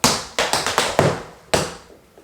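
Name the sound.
tap dance shoes tapping step, maxi forward, step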